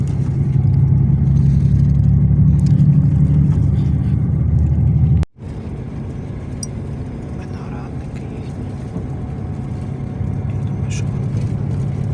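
Steady low rumble of a car driving on the road, heard from inside, with engine and tyre drone throughout and a brief cut midway, moderately loud and continuous.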